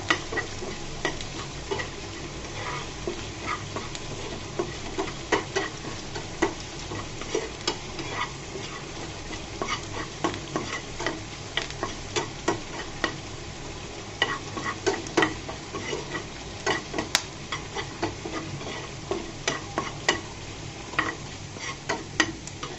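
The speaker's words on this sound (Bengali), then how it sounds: "এই পর্যায়ে আমি সেই ভেজে বাগার দিয়ে রসুন রসুন কুচি আর শুকনো মরিচ কুচি দিয়ে দিলাম" Garlic and dried chili slivers fry as a tempering for a snake gourd curry, giving a steady, close sizzle with frequent scraping and clinking of a spoon against the pan throughout.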